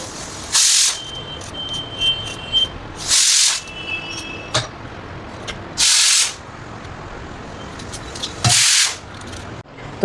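A pressure cooker on a stove lets out four loud, evenly spaced bursts of hissing steam, each lasting about half a second, over a steady low background.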